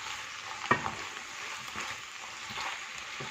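A sauce in an Indo-Chinese dish stirred in a hot pan, a soft steady sizzle with one sharp clack of a utensil early on and quiet scraping strokes afterward.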